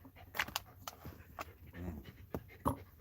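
A one-year-old dog pants and huffs close by in a home at breakfast time, with quick irregular breaths, small whimpers and a few sharp clicks scattered through.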